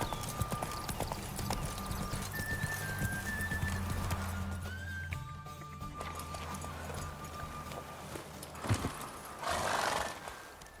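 A swift mare gallops in a race in The Witcher 3, with steady rapid hoofbeats running throughout and whinnies and snorts on top, loud and close against a constant background drone.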